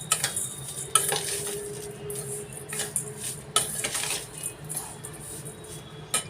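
A spoon stirs and mixes flattened rice (poha) in a bowl, giving a steady rustle with light metallic scrapes and clinks, close and continuous, with no talking.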